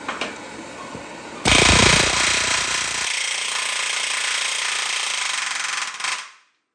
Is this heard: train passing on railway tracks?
no